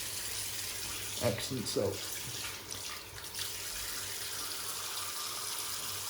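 Running tap water rinsing a safety razor (Henckels Friodur) at a bathroom sink during a wet shave, a steady close hiss of flowing water under a few soft clinks, with someone speaking briefly over it.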